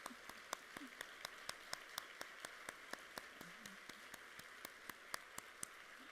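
At a technology breakfast honoring women, a faint, sparse patter of claps greets last year's honorees, with sharp individual hand claps ticking at a fairly steady rhythm over a quiet room.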